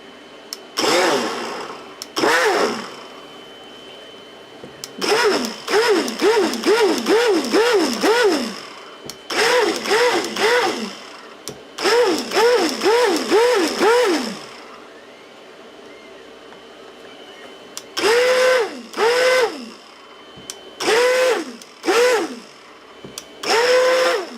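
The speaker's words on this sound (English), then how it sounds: "let me get my blender" A small kitchen blender mixing a batch of cold process soap, running in repeated short pulses with a rising and falling whine, loud and close, with quiet gaps between bursts.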